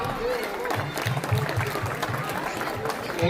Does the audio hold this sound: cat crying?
no